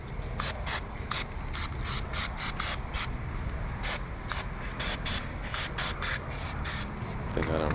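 Motul chain lube is sprayed onto a motorcycle sprocket. Short hissing bursts repeat in quick rhythm and stay close and fairly loud throughout, over a faint rubbing background.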